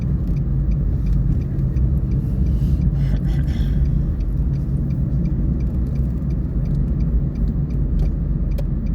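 A car's engine rumbles steadily and close throughout a U-turn during a driving lesson, with continuous low road and motor noise and no talk over it.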